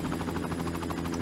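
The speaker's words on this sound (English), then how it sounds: "That helicopter reminds me of the Avengers helicopter." Helicopter in the action video game Mini Attack: Urban Combat, a brief steady rotor buzz with rapid pulsing chop, moderately loud and alone.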